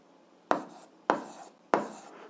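A pen writes numbers by hand on paper while an algebra proportion problem is being worked: three short scratching strokes, each one sharp at the start and then fading, fairly close and quiet, with no talking.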